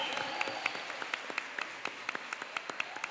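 A congregation at a Catholic community healing service applauds, sparse, uneven claps spread through the room with sharp individual hits, fairly quiet and with no talk over it.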